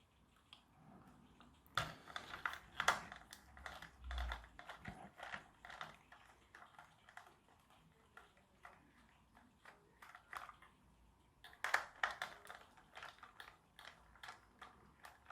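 Small screws being unscrewed during the teardown of an RC Lunacar toy, giving faint, close, irregular ticking and clicking with scattered light taps and short bursts of handling noise.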